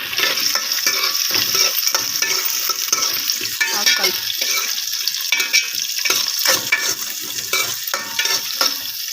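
Salted onions frying and being stirred in a pan on a gas stove for spicy chicken curry, a steady close sizzle with scraping stir strokes throughout, no talking.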